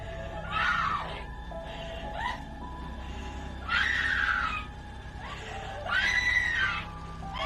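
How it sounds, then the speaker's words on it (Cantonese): Heather, a woman in the Blair Witch film recording, screams in three long, shrill bursts separated by short pauses. The screams are loud and strained over a low rumbling background. "背後就繼續錄到 Heather 一輪嘅尖叫聲"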